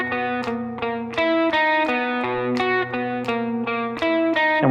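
Palm-muted electric guitar riff, played with a distorted effects tone, a steady chugging pattern of repeated muted notes broken by ringing accents, close and loud with no voices.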